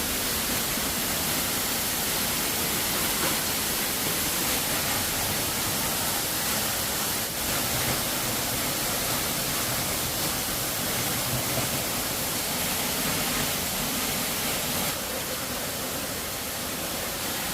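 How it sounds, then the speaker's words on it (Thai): Giessbach Falls in Switzerland roars from directly underneath the cascade, a loud, unbroken wash of falling water that holds steady without pause. "เรากำลังจะเดินไปใต้น้ำตกแล้วครับ"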